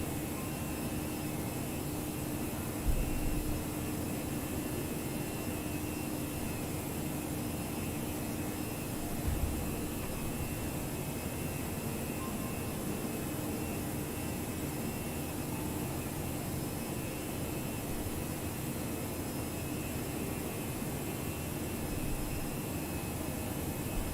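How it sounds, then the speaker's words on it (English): Airbus A319 jet engines in a flight simulator game, on a British Airways flight inbound to London Gatwick from Edinburgh, a steady broadband cabin drone with faint tonal hums and a couple of brief thumps. "This is Speedbird 1081, Airbus A319."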